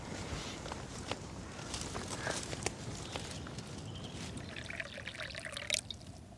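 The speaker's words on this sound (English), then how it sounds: "By straining off the sage oil, it can be stored for later use." Sage oil being strained and poured, a faint, steady trickling and splashing over a soft background with no voices.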